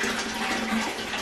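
Hotel bathtub filling from the tap, a continuous close rush of running water splashing into the tub, with no talk.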